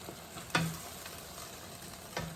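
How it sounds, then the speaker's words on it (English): Pork strips simmer down in their own juice in a stir-fry pan with peppers over high heat, giving a soft, steady sizzle broken by two sharp utensil scrapes, with no talking. "Just a little of the juice simmer down out of these pork strips."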